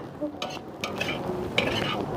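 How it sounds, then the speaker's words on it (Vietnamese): Vegetables are stir-fried in a pan, with a soft sizzle under scattered scrapes and clinks of a utensil against the pan over a couple of seconds. "Đây là rau xào, mình sẽ sau khi xào gần chín thì mình để thịt băm vô"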